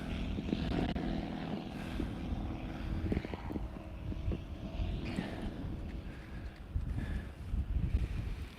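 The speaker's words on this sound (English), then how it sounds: "Wow, that was a loud plane." A loud propeller airplane passes low overhead, its engine drone rumbling and swelling steadily with wind buffeting the microphone throughout.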